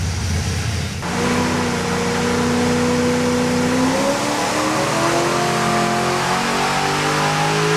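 An LS-swapped V8 in a two-tone Holden VN Calais with a Turbo Killer cam barks into a loud rev, then holds a rising, lumpy rumble close by with no voices.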